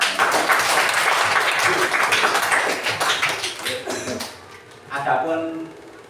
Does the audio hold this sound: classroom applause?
yes